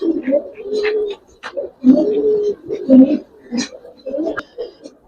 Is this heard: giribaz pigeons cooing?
yes